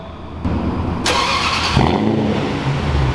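A Range Rover idles loudly nearby with a custom-tuned exhaust, then its exhaust note swells and shifts as it starts to rev.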